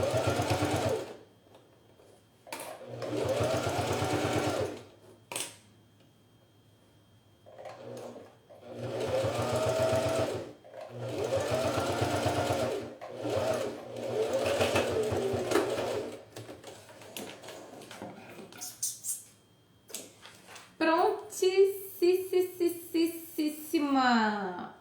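A home sewing machine stitching fabric for a zippered organizer pouch, running in several steady bursts of close mechanical whirring separated by pauses, with a final rapid rhythmic run; someone talks between and over the stitching.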